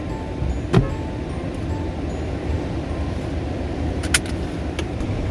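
A Tesla sets off from a hotel and drives toward Seoul, giving a steady low road and motor rumble from inside the cabin, with two faint brief clicks, and no talking.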